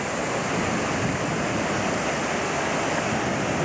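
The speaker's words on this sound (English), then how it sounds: "You see there's a wee waterfall here," A small waterfall in a mountain valley in Norway sends a steady, dense rush of falling water, loud and unbroken throughout.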